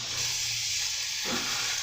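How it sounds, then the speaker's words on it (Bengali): Chicken fried in a pan sizzles steadily with a close, bright hiss, and it flares briefly louder as soy sauce is poured in. "চিকেনটা আমার ভাজা হয়ে গিয়েছে, এবার আমি এতে একটু দিয়ে দেব সোয়া সস"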